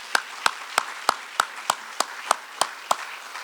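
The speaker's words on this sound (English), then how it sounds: "let's give them a round of applause" A Hall of Fame induction ceremony with hands clapping for the inductees, heard as a single close, evenly spaced run of about eleven distinct claps rather than a full crowd.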